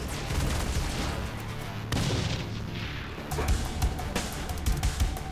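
Gunfire and exploding aliens in Saints Row IV: dense, continuous volleys of shots and booming blasts, loud and chaotic throughout with sharp bursts near the end.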